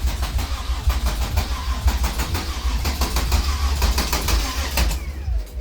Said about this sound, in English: I'm gonna crank it one more.